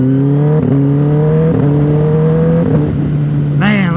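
A car fitted with an Austin Racing exhaust drones loudly at steady revs, with stepped rises in pitch like gear changes and a sharp rev flare at the end.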